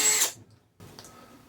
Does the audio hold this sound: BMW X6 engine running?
no